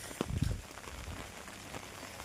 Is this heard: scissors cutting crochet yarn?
no